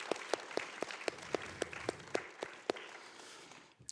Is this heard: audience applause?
yes